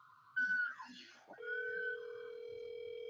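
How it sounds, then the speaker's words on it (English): A nearby phone sounds a steady electronic tone, interrupted briefly by a short burst of other noise before the tone resumes and holds. "Someone's phone going on."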